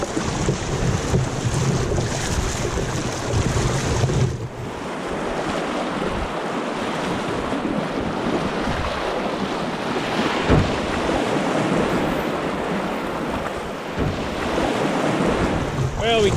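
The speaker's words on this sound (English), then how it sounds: "We're getting to a section now where I've marked a couple rapids in close proximity." A canoe running river rapids on the Throat River on a cold, windy day, with rushing whitewater and gusting wind buffeting the microphone throughout, loud and continuous with no talking.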